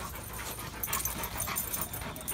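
A dog panting and whimpering while waiting for food, quick rhythmic breathy panting close by, fairly quiet, with no talk.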